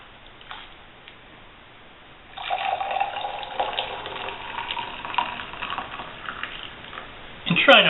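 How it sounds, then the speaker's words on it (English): Boiling water is poured from a kettle into heat-proof glasses for dyeing Easter eggs: after a quiet start, a steady trickling, filling splash runs for several seconds and ends in a brief, louder clink. "put 1 cup of boiling water into each one of these glasses"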